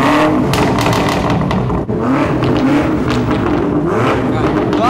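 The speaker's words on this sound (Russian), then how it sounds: "Сейчас установили уже на 1/8 выхлоп полностью трассу Акропович. Сейчас мы послушаем, как она звучит на М8." BMW M8 fitted with a full Akrapovic exhaust, revving loudly and continuously at close range, with a dense roaring engine note throughout and people talking over it.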